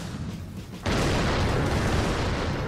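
Tank shell fire in the game Attack on Toys, a sudden heavy boom that cuts in abruptly and holds as a dense, sustained roar of explosion noise.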